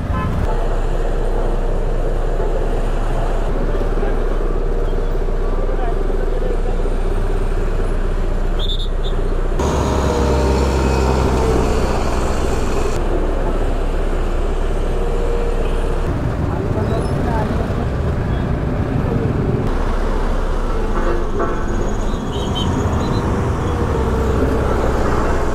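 A large crowd of motorbikes idles at a closed road in Nepal, with a loud, continuous engine drone, passing vehicle rumble and occasional horn toots, while someone speaks over it.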